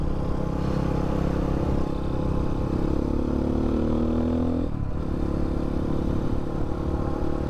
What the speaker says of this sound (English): I hope you guys can hear the exhaust. It sounds good.